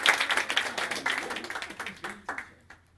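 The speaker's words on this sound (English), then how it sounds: "give her a round of applause anyway" A modest round of applause at an evening meeting, with sparse, distinct claps from a small group that thin out and trail off within a few seconds.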